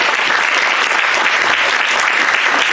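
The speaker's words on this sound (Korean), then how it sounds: "박수 한번 해주세요." Congregation applause at a church end-of-term thanksgiving service and graduate farewell, a loud, dense burst of many hands clapping steadily with no talk over it.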